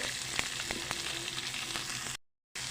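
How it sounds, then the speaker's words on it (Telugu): Onion pieces and curry leaves fry in hot oil, making a steady close crackling sizzle with small pops, which cuts out briefly near the end. "ఆయిల్ వేసుకున్నాం కదా ఇప్పుడు ఉల్లిపాయ ముక్కలు కరివేపాకు కొంచెం పసుపు"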